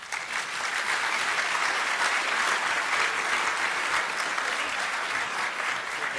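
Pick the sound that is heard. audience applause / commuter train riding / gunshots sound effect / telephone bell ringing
audience applause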